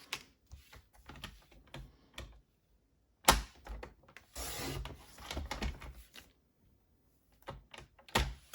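Card stock for a festive postcard is trimmed down, giving quiet, close scraping and rasping strokes in short bursts separated by near silence.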